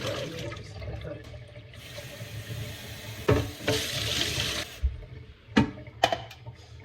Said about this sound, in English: I'm gonna put the water in here.